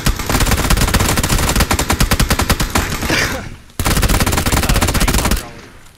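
Rapid automatic gunfire in the battle royale game PUBG, two long loud bursts of fast repeated shots separated by a brief pause, close and dominant.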